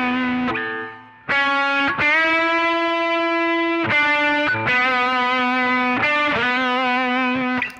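A distorted electric guitar plays sustained, bent and sliding notes from a solo, a few long singing phrases separated by brief gaps, loud and close with no voices.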